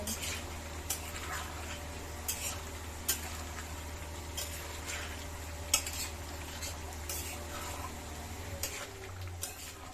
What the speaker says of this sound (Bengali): আলুটা দিয়ে আর একটু কষতে থাকবো